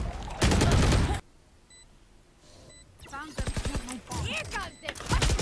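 Gunfire in the video game Call of Duty on the Mumbai map, loud bursts of rapid shots opening and closing a stretch with a lull of faint beeps and a voice talking between them.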